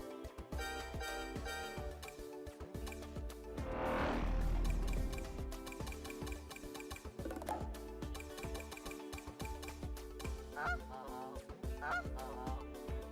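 Vehicle horns honk repeatedly in the Sonic Racing CrossWorlds kart racing game, goose-like blasts sounding over layered game music and engine noise.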